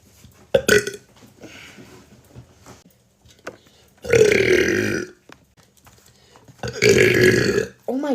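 Loud, drawn-out belches from a woman, two big ones standing out clearly, with quieter breathy sounds and small noises between them.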